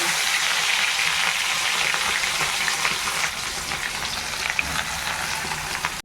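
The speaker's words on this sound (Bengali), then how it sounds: "এই যে সমস্ত সব আমি এখন তেলে দেবো।" Onion, garlic and grated ginger fry in oil for a quick chicken dish, producing a dense, even sizzle heard up close. The crackle holds steady throughout with small pops scattered over it and no voices.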